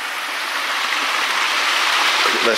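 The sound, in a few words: water flowing at a creek crossing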